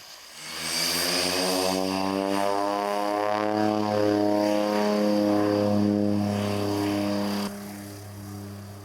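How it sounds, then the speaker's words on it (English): A propeller plane at an Antarctic base camp on snow and ice runs up its engines into a loud, droning roar whose pitch slowly shifts as it pulls away, then the sound drops off toward the end, heard alone. "Then the plane's about to leave."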